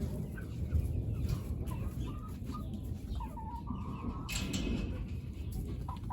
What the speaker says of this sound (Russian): Петушок Маран.